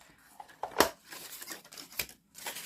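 Scissors snipping through a piece of Tyvek sheet, several short crisp cuts and rustles of the material at close range, with no talk over them.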